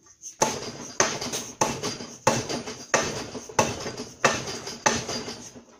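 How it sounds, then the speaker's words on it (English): A hammer strikes a screwdriver about eight times in a steady rhythm, driving apart a seized joint on a 6.4 Powerstroke turbo VGT actuator shaft; the sharp metallic taps ring out close and loud with no talking. "This is going to be a little bit of a hammer and screwdriver deal here."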